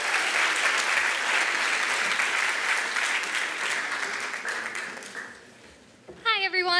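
Audience at a graduation ceremony applauding, dense continuous clapping that fades out over several seconds before a single voice begins speaking.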